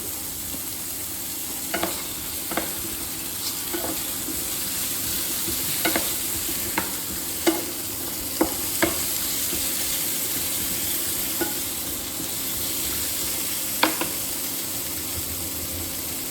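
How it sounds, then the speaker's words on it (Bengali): Pointed gourd (potol) pieces frying lightly in oil, giving a steady close sizzle with a few sharp utensil clicks spaced through it and no voices. "এই তেলের মধ্যে আমি পটলগুলো হালকা ভাজবো, খুব বেশি ভাজবো না।"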